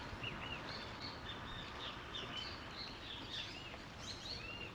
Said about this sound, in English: You can still hear the birds going